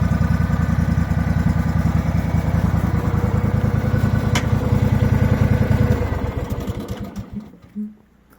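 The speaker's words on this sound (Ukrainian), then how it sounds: "Як бачите, чуєте, коса працює тихенько, дуже гарно." A Husqvarna garden tractor lawn mower runs with a steady, quiet engine drone nearby, then the engine shuts off and winds down to silence in the last couple of seconds.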